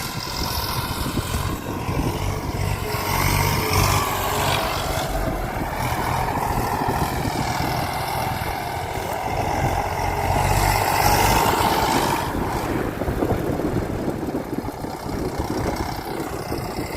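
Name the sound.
tractor engine running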